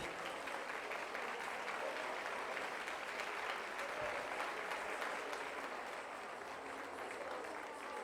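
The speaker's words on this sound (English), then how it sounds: "Please, a big round of applause." An audience at the Global Disability Summit 2025 applauds in a steady, dense and even stream of clapping that lasts several seconds at a moderate, somewhat distant level.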